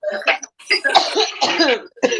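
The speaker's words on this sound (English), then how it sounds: "I'm coughing" Several harsh coughs in quick succession, close and loud, with short pauses between bursts.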